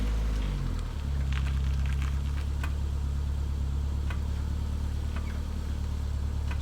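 A car idles steadily after an AWD gearbox swap and new clutch fit, its low engine drone holding constant and close with faint ticking on top, no talking.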